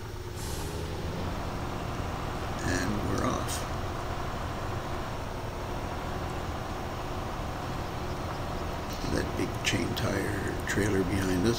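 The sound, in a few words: RNG M31 military tractor truck engine straining in SnowRunner video game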